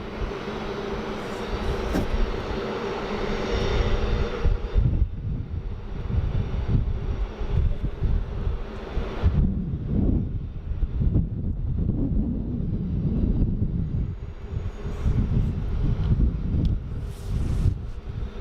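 An airliner taking off from runway 34 left at Sydney Airport, a heavy sustained engine roar with low rumble heard outdoors amid wind buffeting the microphone, steady and loud throughout.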